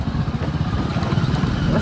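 A motorcycle engine rumbles close by with a rough, sputtering low drone, fairly loud and steady over the short stretch.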